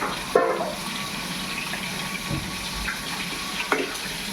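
Tomatoes sautéed with onion and garlic in a pan for pinakbet, an Ilocano vegetable dish, give a steady close sizzle and hiss with a few brief utensil clacks.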